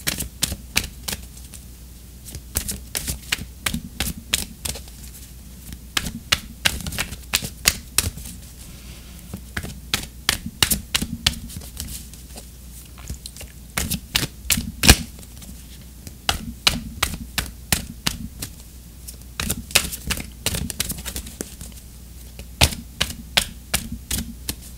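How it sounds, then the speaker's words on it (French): Oracle cards are shuffled, sharp clustered clicks and flicks in irregular bursts with quieter pauses between, close and crisp over a low background hum. "on va tirer une carte d'oracle"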